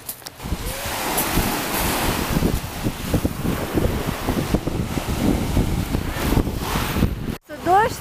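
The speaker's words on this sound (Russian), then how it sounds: "Море. Море, море." Surf washes and rumbles close by amid gusty wind buffeting the microphone, with a voice speaking briefly over the sea.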